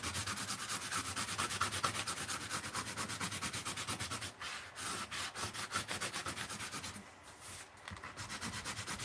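A tool scraping melted crayon wax off an art journal page, a steady run of rapid rhythmic rasping strokes, close and continuous with two brief pauses.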